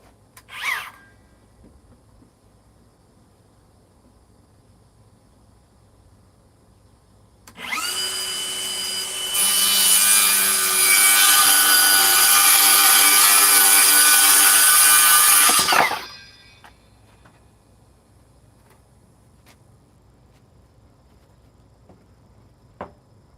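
A Milwaukee 6.5 circular saw whines up and cuts through wood for about eight seconds, loud and close, then spins down, with quiet pauses before and after.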